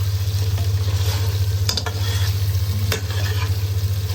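Green chillies frying in a pan with onions and tomatoes for a tinde chicken curry give a steady close sizzle over a low constant hum, with a couple of brief clinks from stirring.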